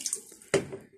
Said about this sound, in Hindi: पानी कम था और थोड़ा डाल दिए